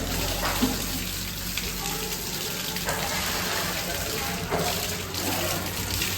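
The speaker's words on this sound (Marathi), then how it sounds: "हे उन्हावड्याचं गरम पाण्याचं झरा तिथे आलेलं आहे" Hot spring water at Unhale, Rajapur, Ratnagiri flows and splashes steadily, a continuous gurgling rush with faint background chatter.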